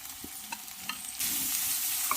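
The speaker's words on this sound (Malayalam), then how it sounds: "ഇനി അരിഞ്ഞു വെച്ചിരിക്കുന്ന സവാളയെ അതുപോലെ ഒന്ന് വഴറ്റിയെടുക്കണം" Chopped onions sautéing in a pan for bread upma, a steady frying sizzle that swells louder partway through, with light stirring scrapes and taps on top.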